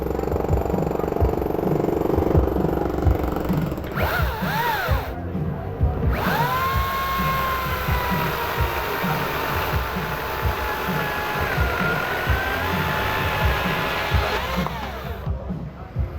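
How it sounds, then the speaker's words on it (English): A Makita XCU03 36V cordless chainsaw making a test cut, its loud, steady electric whine rising in pitch and holding as it runs continuously, with a brief change in tone partway through. "We're going to make a test cut."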